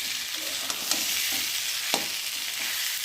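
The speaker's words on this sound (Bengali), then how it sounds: "মশলার সাথে সয়াবিনের সাথে আলুর সাথে একটু মশলাটা ভালো করে কষিয়ে নিই" Soybean chunks, potato and spices stir-fried in hot oil, a steady bright sizzle broken by a few scraping spatula strokes, close-up, with no one talking.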